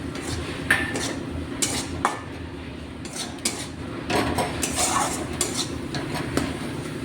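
Ginger-chili paste ground on a grinding stone goes into a pan of fish with tomato, with clattering metal-on-pan scrapes and clinks from stirring over a low sizzle, close and uneven, and no talking.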